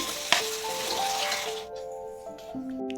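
Dragon stalk yam sautéing in a pan, a soft sizzle and frying hiss with a brief clatter near the start, fading to quieter tones toward the end.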